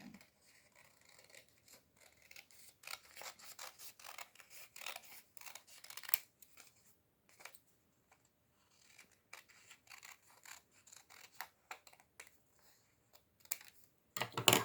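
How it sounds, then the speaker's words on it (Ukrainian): Scissors cut through folded white paper while making a paper angel craft, giving quiet, close snips and crunches in irregular bursts with short pauses between cuts. "І вирізаємо. Навпіл зігнутий наш папір."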